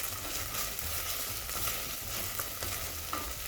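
Onions and minced garlic with ginger garlic paste sizzle steadily in a pan, stirred with soft scraping clicks and occasional sharper taps, close and fairly quiet, with no talking.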